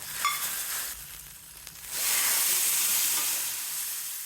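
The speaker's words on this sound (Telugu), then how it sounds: "కరివేపాకు ఎండుమిరపకాయలు బాగా వేగాలి" Curry leaves and dried red chillies fry in oil as a tempering for pachi pulusu. A close, hissing sizzle dips briefly, then surges into a loud, steady crackle that holds to the end.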